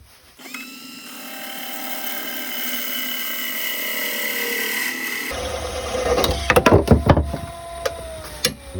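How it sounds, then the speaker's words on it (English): Wood lathe parting off a turned wooden bottle opener piece at slow speed: a steady spinning hum with a rising tone from the tool cutting, then sharp knocks and clatter as the piece comes free. "I'm going to part this off very, very carefully here at a slow speed"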